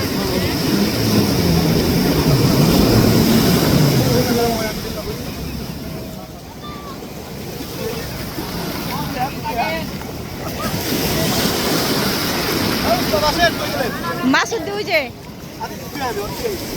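A speedboat on the sea, under wind buffeting and surf on a roaring outdoor background, with a motor drone that swells and fades while people talk nearby.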